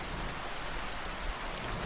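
Rain falls in the medieval video game Kingdom Come: Deliverance II as a continuous, even, fairly soft hiss, with no voices.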